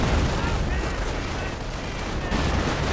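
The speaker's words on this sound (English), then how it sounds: "And calling in artillery on this spot." Artillery fire in a strategy video game, heard as a dense, continuous rumble of distant booms and crackling blasts that stays loud and unbroken throughout.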